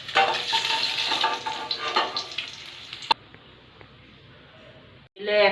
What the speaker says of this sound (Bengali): তেলে একটা শুকনো লঙ্কা ও একটা কাঁচা লঙ্কা দিয়ে দেব।